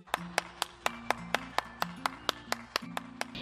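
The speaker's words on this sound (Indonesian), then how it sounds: "Tepuk tangan dulu buat Hanum." Slow, deliberate single-person clapping, about fourteen sharp claps spaced fairly evenly, close and fairly quiet, with a soft tonal background between them and no talking.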